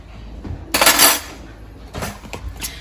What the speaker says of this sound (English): I like to give the sour cream a nice mix.